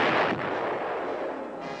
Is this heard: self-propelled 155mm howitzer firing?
yes